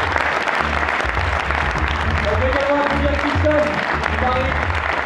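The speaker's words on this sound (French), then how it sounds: "On va également applaudir" An audience at a French stand-up comedy showcase evening applauds warmly, dense steady clapping filling the room while someone speaks over it through a microphone.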